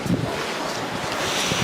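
Stormy wind roars steadily outside in the cold Ziarat hills, a broad continuous rush buffeting the microphone with no clear raindrop patter, loud and unbroken throughout.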